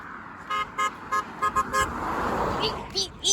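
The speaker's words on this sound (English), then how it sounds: "I'm getting so many honks, Dad, already." Passing cars sound their horns in a quick run of short, evenly spaced beeps over steady roadside traffic noise, with a person talking excitedly as the last honks fade.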